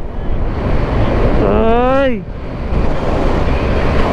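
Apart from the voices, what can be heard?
strong wind while riding a motorcycle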